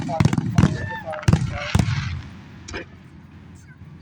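Labor Day fireworks burst outdoors in a rapid cluster of sharp cracks and booms over the first two seconds, followed by a fainter, more distant pop, with people talking nearby.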